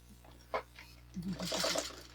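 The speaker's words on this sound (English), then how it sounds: "So basically we're going to sew this and this together." A sewing machine stitches two pieces of a traditional quilt block together, a short sharp burst followed by a steady run of fast stitching, close up.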